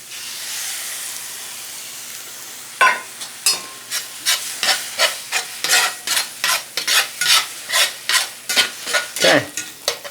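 Two eggs sizzle and fry in a cast iron skillet: a steady frying hiss gives way to a rapid series of loud, evenly spaced scraping or stirring strokes, close up, with no talking.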